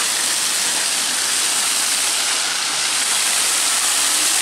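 A fountain in Strukovsky Garden park in Samara splashes in a loud, steady, close wash of falling water that stays unbroken throughout, with no voices over it.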